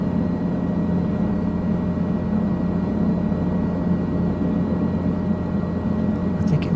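Guimbal Cabri G2 helicopter engine in Microsoft Flight Simulator, a steady, loud low-pitched drone with a constant whir that holds unbroken throughout, with a brief faint click near the end.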